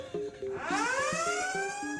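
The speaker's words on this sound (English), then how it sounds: "Planet Fitness also has their notorious lunk alarm" The Planet Fitness lunk alarm sounds at a gym, a loud rising siren-like wail that swells over a repeating beeping pulse and holds for a couple of seconds.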